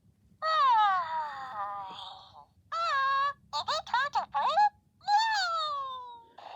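Skyrocket Pomsies electronic cat toy giving out a string of synthetic meows, several long drawn-out mews and a quick burst of short chirps, clear and close over a low background hum.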